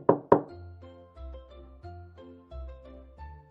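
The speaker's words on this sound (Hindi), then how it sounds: "रात के होते वो फिर एक झोपड़ी पर पहुंची और दस्तक दी" Two sharp, close knocks on the wooden door of a hut ring out at the start, followed by soft, low musical tones.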